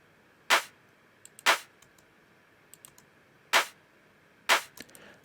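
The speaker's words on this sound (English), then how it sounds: "Thereafter we've got our snares and claps." Four sharp, bright snare and clap hits land at uneven intervals, with a few faint ticks between them and no voices.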